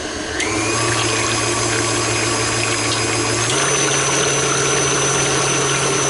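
A KitchenAid stand mixer runs at speed 6 with a loud, steady motor whine and a faint high tone, stepping up slightly in pitch partway through and holding there, with no talking.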